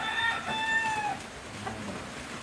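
A red game-farm rooster, a Gilmore Hatch sweater cross, gives a few sharp, tonal calls in the first second. The calls are moderately close and followed by quiet background noise, with no talking.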